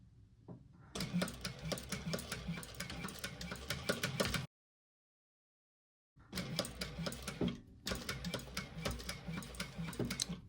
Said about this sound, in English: we're going to top stitch along these 3 folds, back stitching at the beginning and end